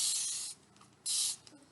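A hand spray bottle mists onto a transfer surface in two short, soft hissing bursts, close by, with a brief quiet gap between them.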